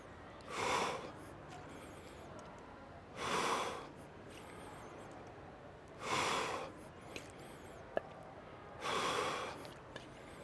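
During a workout exercise, heavy breathing comes in four strong, evenly spaced bursts about three seconds apart, close and loud against quiet room noise, with no talking.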